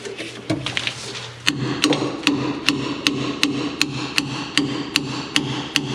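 Sharp metallic clanks ring out as a hammer strikes a wrench about a dozen times at a steady, slightly uneven pace, close and loud over low background hum, during repairs on a C8500 truck.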